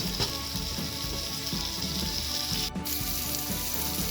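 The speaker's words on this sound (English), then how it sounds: "Cook the tomatoes until it's become soft." Tomatoes sautéing with curry leaves in a pan for salna, giving a steady, close sizzle and frying crackle with faint stirring scrapes that runs unbroken for the whole stretch, no voices.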